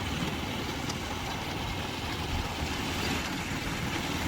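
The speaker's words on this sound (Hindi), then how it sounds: "ट्रैफिक चल पड़ा ना ठीक ठाक है इस टाइम, मोटरसाइकिल दिखाई दे रही।" Street traffic with motorcycles flows past on a road, a continuous loud blend of engine drone and road roar without pauses.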